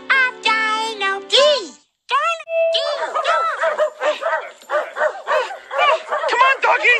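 Several small dogs on leashes with a dog walker yip and bark in quick, rising bursts, overlapping with a cartoonish voice talking and a faint jingle of tags.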